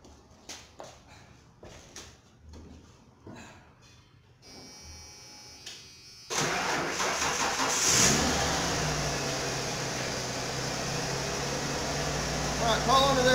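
The engine of a 1995 Ford F-150 truck is started after an oil pan gasket replacement. Following some handling noises and talk, it cranks, catches and settles into a steady, close idle that continues to the end.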